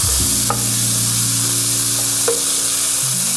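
Sausage browns in a non-stick pan, a loud, close, steady sizzle broken by a few quick scrapes as the meat is broken up and turned.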